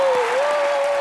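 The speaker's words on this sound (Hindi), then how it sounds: "इनके लिए जोरदार तालियां।" Loud, dense audience applause on a TV comedy show stage, steady through the whole moment, with a faint sustained tone running beneath it.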